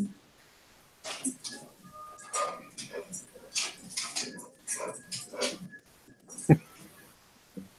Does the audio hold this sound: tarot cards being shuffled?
no